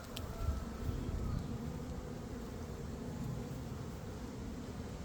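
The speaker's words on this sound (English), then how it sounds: "There's so many bees." Honeybees in an opened hive fill the air with a steady, low, dense buzz during an inspection, close and continuous throughout with no talking.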